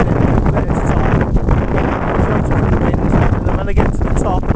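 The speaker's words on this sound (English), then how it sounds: "it's quite windy at the moment" Strong wind buffets the microphone on the Rhyd Ddu path up Snowdon, a loud, rumbling, gusting roar that persists throughout, with someone speaking beneath it.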